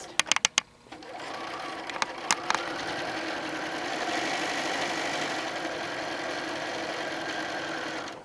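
After a few sharp clicks, a sewing machine hums in one fast, unbroken run while chain piecing quilt fabric for a Pixie Dust quilt top, close and steady to the end.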